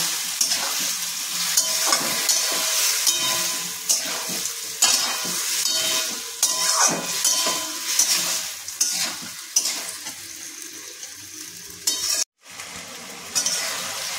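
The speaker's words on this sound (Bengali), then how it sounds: "এবারে আমি এই সসটাকে এর সাথে মাখিয়ে নেব।" A spoon stirs sauce into paneer in a hot pan, with steady sizzling and repeated scraping strokes, loud and close, broken by one brief pause near the end.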